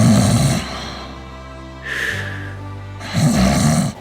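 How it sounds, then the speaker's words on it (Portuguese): A sleeping person snoring, two broad rasping snores at the start and end with a quieter airy breath between, fairly loud and close, with no talk. "Muitas pessoas sofrem com roncos."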